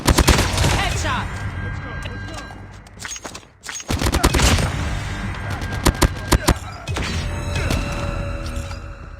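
Rapid gunfire in the mobile shooter Call of Duty Mobile, with dense bursts of automatic shots, sharp cracks and a brief lull before the firing resumes, loud and close, while game announcer voice lines come through between volleys.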